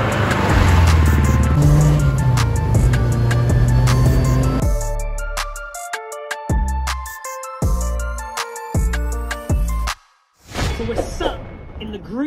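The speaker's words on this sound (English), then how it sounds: "Group B Samba running the engine in for the race event" A Talbot Samba Group B rally car on a quiet industrial estate, its small engine being run in ahead of a race event, revs and crackles loudly nearby in sharp bursts and pauses, with a brief drop to near silence.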